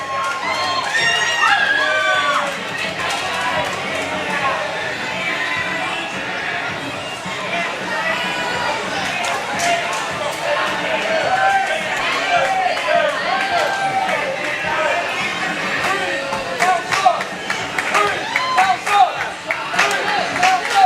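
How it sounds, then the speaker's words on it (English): A restless arena crowd keeps up a dense, continuous roar of shouting, whistles and children's cries for Ace Armstrong, loud and steady with sharper yells spiking near the end. "this crowd is not giving Ace Armstrong a warm reception"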